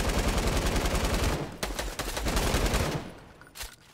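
Rapid bursts of gunfire in a battle royale video game fight, continuous dense shooting for several seconds, then trailing off into scattered shots near the end, with no talk over it.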